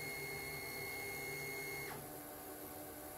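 A CNC machine drives steadily toward its home position with a continuous motor whine, then the pitch drops sharply as a limit switch triggers and the motion changes, leaving a steady hum.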